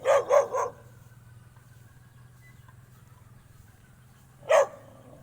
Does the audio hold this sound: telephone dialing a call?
no